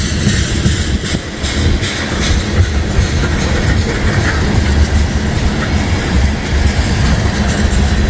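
An ethanol freight train rolls past nearby with a steady, loud rumble and rhythmic clickety-clack of wagon wheels on the rails, sustained throughout without a break.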